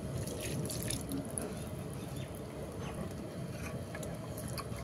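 Dissolved Amul milk pours into a pan of rice payesh as a steady, soft stream of liquid with light splashing and patter. It runs unbroken for about five seconds and stops abruptly.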